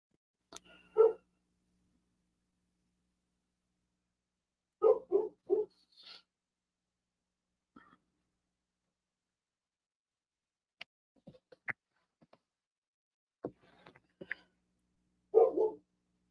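A dog barks in short bursts, a few sharp barks at a time with quiet pauses between, moderately near, plus scattered small clicks and knocks.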